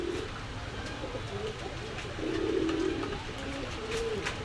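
Pakistani high-flyer pigeons in a shop, giving low, faint coos in a few short bursts, with the longest in the middle, over a steady background hiss.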